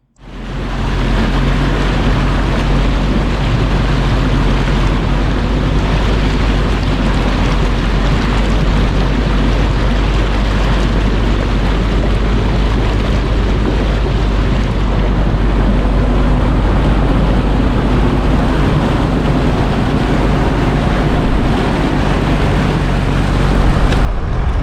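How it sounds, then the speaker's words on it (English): An off-road vehicle pushing through a big water crossing on a bush track, a loud sustained engine drone mixed with rushing, splashing water that starts abruptly and continues steadily. "you're straight back into the next big water crossing"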